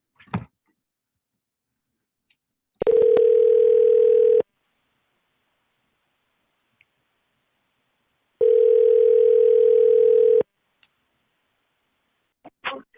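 A telephone line tone plays while cold-calling sales leads: two long, steady, loud bursts of about two seconds each, separated by a quiet gap with a few faint clicks.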